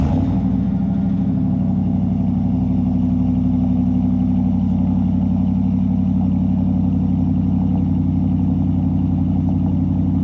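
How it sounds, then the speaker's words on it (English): A Ram 1500 pickup fitted with a Borla S-Type exhaust kit revs with a deep, loud, sustained engine drone that holds steady and close for about ten seconds with no talking. "And here's the new Borla revving."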